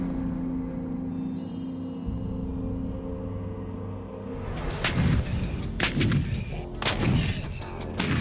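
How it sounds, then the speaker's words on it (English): Heavy artillery pieces fired by American gunners at Fort Sill, Oklahoma: a steady low rumble of engines gives way to several loud, booming gun blasts in quick succession, each cracking sharply with rolling echoes. "These American gunners are learning how to shoot sophisticated pieces of military technology, today's big guns."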